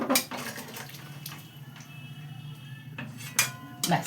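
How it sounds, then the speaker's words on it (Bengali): Hot water pours into a cooking pan of mutton curry, a close running splash with clinks of metal at the start and end, no speech over it. "আর এই যে গরম জলটাও আমি দিয়ে দিচ্ছি"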